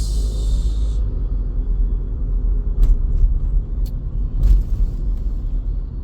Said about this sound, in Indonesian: Wah, sebelah kiri bis.